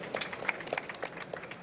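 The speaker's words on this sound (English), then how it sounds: "Round of applause, please, for the panel on digital business models." Audience applause after a conference panel on digital business models, a brief quiet burst of scattered claps heard from a distance.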